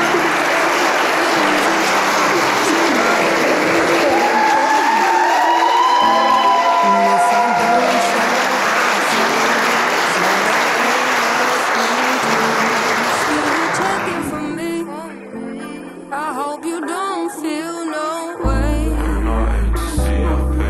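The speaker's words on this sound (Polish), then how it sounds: "Cały Kościół bije brawo." Wedding guests applaud throughout a church, a dense, sustained wave of clapping that fills about fourteen seconds before fading into quieter room sound with voices and music.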